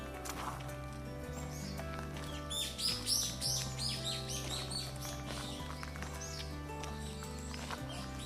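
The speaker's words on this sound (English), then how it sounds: "I can't understand the birds' language, but I'm sure they are having a peaceful conversation." Birds chirp and tweet among green trees on Jeju, with a brighter burst of song in the middle over a steady low hum, moderately near and without any talk.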